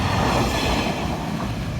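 A train rumbles along close by as it approaches Ban Pong railway station, a loud, steady rolling roar of wheels on track, with no one talking.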